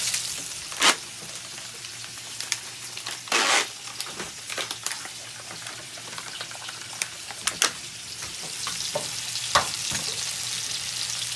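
Eggs fry in a pan alongside noodles for Indonesian mie goreng, a steady close sizzle broken by sharp clatters and scrapes of utensils against the pan.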